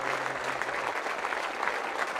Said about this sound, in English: the supporters, they've been clapping now for over a minute